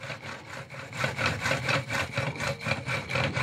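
Close, rhythmic scraping grind of a pump drill biting into stone, repeating in quick, even strokes with no voices.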